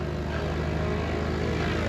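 A propeller airplane engine drones steadily and loudly at close range, giving a dense, continuous buzzing roar with no voices.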